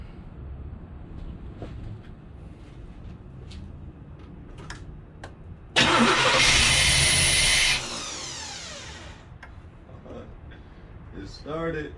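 A 1988 IROC-Z that had trouble starting on a dark evening bursts loudly into life for about two seconds, then settles to a quieter running sound; low voices and small clicks surround it.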